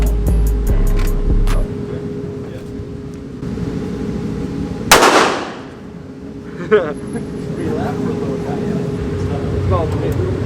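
A single loud, sharp shot from a large handgun, fired one-handed at a gun range, rings out mid-clip and decays quickly, with a fainter crack shortly after; people talk and move around before and after it.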